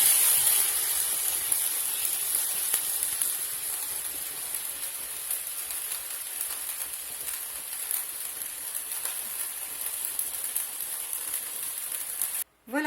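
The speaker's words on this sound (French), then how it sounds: "Alors maintenant on va faire flamber." Crêpes Suzette flambéed with Grand Marnier in a very hot pan, giving a continuous dense sizzling hiss like heavy rain that holds steady, then cuts off abruptly with a brief knock at the end.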